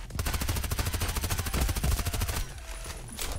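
Rapid bursts of suppressed MP5 SD6 submachine gun fire in the online shooter Contract Wars, a steady rhythmic stream of shots for over two seconds, then a brief lull before another short burst.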